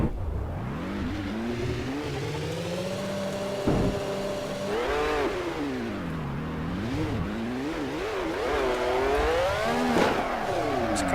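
Car engine revving hard during burnouts, pitch swooping up and down repeatedly with sharp bursts around four and ten seconds, loud and close with no talk over it.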